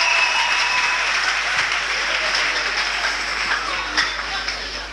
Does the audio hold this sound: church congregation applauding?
yes